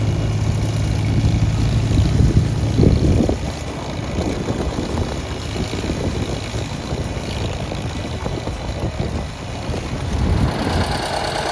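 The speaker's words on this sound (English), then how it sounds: "plowing with a Farmall 300, pulling a 16-inch frame International No. 8 Little Genius plow" A Farmall 300 tractor pulls a 16-inch frame International No. 8 Little Genius plow at a South Dakota plowing contest, its engine holding a steady, rumbling drone throughout with a broad wash of outdoor noise.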